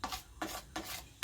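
Sliced onions being rubbed by hand with salt and pepper, heard as three short, close, gritty scraping strokes in a steady rhythm with brief pauses between them.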